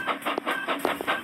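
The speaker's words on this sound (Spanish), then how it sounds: "Literalmente los sonidos de los trenes son mil veces más raros." Rhythmic clickety-clack of a train in the video game Labo Brick Train, repeated bright metallic clanks in an even beat over a low rumble, fairly close and loud.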